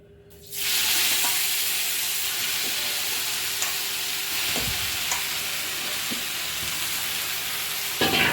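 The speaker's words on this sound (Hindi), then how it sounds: "कढ़ाई में तेल गरम किया है, अब इसमें थोड़ी मेथी डालकर" Fenugreek (methi) leaves hit hot oil in a kadai with a sudden loud sizzle that settles into a steady, close frying hiss, with a few light stirring clicks and a brief flare near the end.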